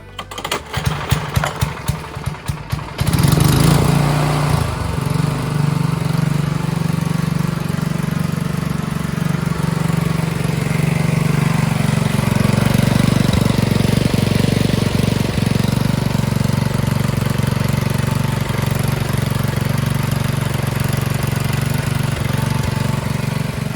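A John Deere 57 rear-engine mower sputters through a few rough cranking attempts, then catches and runs at a loud, steady idle close by for the rest of the time.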